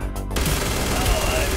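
The Revenant, a legendary weapon in the video game Starfield, fires a rapid burst of gunshots. The shots come loud and close over a short stretch, with a game voice faintly underneath.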